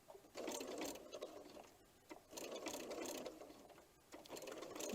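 A domestic sewing machine quilting a paper-pieced heart pillow, slowly working around curves: three bursts of close, quiet rhythmic stitching with a soft mechanical clatter, separated by brief pauses and heard with no talking.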